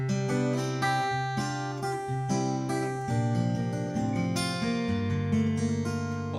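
A bright acoustic guitar with a capo strums a sequence of extended chords, each ringing out with a crisp, slightly high-pitched sparkle, played alone at a steady, relaxed pace.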